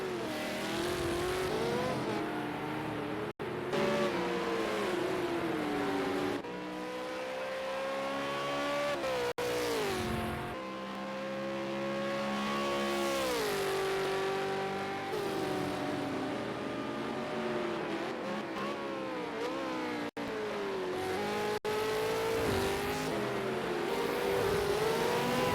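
V8 Supercar race cars on the Long Beach street circuit roar loudly and continuously, engines rising and falling through gear changes, with brief dips between passes and no voices.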